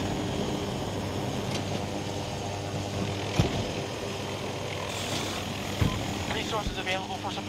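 An Apache attack helicopter in the video game Battlefield 2042 gives a steady rotor and engine drone with a couple of sharp impacts, heard under players talking.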